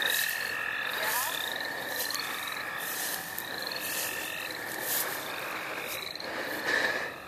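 Toads and frogs croak and trill at night during frogging, a steady chorus of repeated rhythmic calls from several animals at moderate distance, with faint insect chirps underneath and no talking.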